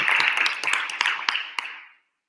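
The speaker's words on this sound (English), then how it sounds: "Maybe we have a little applause for her." A short burst of clapping from a small group after a presentation in Leipzig, brisk and fairly close, tapering off into silence after about two seconds.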